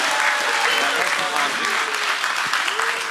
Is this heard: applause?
yes